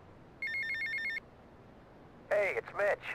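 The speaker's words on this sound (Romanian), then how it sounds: "Apel telefonic." Electronic phone ring in the game GTA Vice City: one steady trilling burst, then a pause and a warbling ringtone phrase that rises and falls, loud and close with no talk over it.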